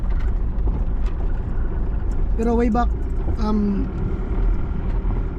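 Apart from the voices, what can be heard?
road traffic, many vehicles passing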